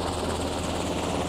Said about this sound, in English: Blackhawk helicopters are picking up hundreds of one-ton sandbags and dropping them into gaps along the coast